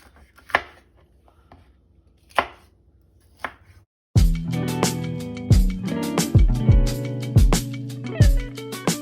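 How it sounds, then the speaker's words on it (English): A knife chops bell pepper on a cutting board, starting with a few sparse, separate cuts, then shifting to rapid, rhythmic chopping that comes close and clear, with no talking. "So I'm gonna cut up our bell pepper into smaller pieces to put into the blender."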